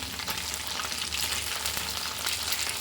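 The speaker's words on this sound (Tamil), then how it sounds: "பாருங்கள் ரொம்ப அழகாக பொரியுது இது இன்னும் பொரியணும் நல்லா பொரியட்டும்" Rice-based vadas fry steadily in hot oil, a continuous close crackling sizzle with no voices.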